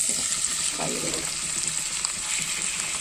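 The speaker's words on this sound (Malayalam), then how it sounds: "അപ്പോൾ നമ്മുടെ കല്ലിന്മേക്കായ പൊരിക്കുന്ന ഫ്രൈ ആയി" Green mussels fry in a spoonful of coconut oil with curry leaves in a pan. The sizzle is close and continuous, with occasional stirring scrapes and faint bubbling throughout.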